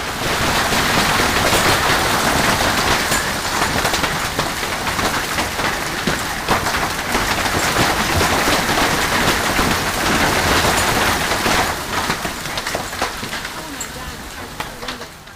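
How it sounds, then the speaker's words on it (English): A dense, loud roar of golf ball-sized hail pelting surfaces nonstop in Arizona, with a rattling hiss throughout that eases slightly toward the end. "Is a golf ball-sized hailstorm just a myth?"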